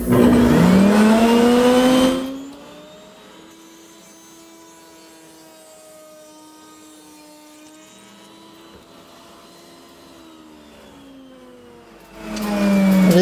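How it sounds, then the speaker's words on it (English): An Osred inverted router cutting a wooden board gives a loud high whine at the start. A quieter, steady humming drone follows, then the loud whine returns at the end. "This is an Osred inverted router."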